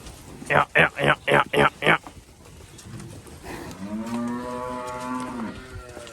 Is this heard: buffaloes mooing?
yes